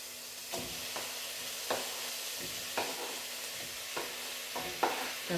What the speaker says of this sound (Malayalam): അപ്പോൾ ഇനി നമുക്ക് ഈ തക്കാളിയും കൂടെ അങ്ങോട്ട് ഇടാമേ